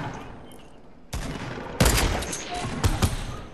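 Rapid video game gunfire striking the player from behind, loud dense bursts of shots that start abruptly and keep going with sharp spikes.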